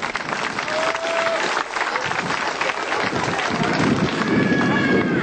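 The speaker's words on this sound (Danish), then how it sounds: "Lad os give et ordentligt bifald." Audience applause for a woman performer riding inside a steel globe of death at a circus, a dense steady clapping wash that holds strong throughout, with a brief whistle-like tone and crowd noise mixed in.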